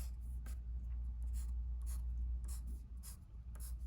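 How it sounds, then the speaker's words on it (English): A pencil draws short horizontal lines on paper to suggest a brick wall, each stroke a soft scratchy swipe repeating about twice a second over a low background hum. "I'm going to do some pencil lines just to indicate brick"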